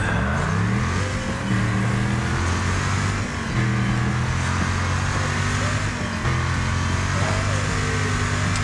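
In the racing game Wreckfest, an RV engine drones and revs continuously, its pitch rising and falling with the throttle, loud and close with a few brief dips.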